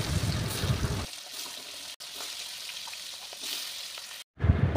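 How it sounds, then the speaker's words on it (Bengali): Fish rubbed with salt and turmeric sizzles and crackles in hot oil in a wok, a close, continuous frying hiss with a short break and louder spatters at the start and end. "কড়াইয়ে তেল গরম হলে নুন হলুদ মাখানো মাছগুলোকে ভালোভাবে ভেজে নেব।"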